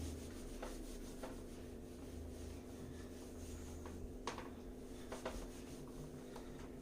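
Faint rubbing strokes erase writing from a board in a classroom lesson, a few soft scrapes spread over a low steady room hum.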